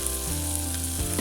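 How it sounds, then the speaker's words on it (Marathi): Ginger and garlic roast in a pan with a close, steady sizzle of frying, continuous and unbroken through the brief moment with no talking. "मस्त असं भाजून घ्यायचं आहे अद्रक आणि लसूण."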